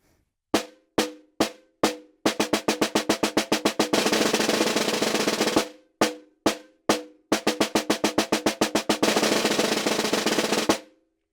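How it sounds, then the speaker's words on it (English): A snare drum plays a practice exercise: four spaced single strokes, then fast alternating triplets that melt into a dense multiple-bounce buzz roll, then the same pattern repeated, crisp and close with no talking. "go into alternating triplets, and then multiple bounce those triplets"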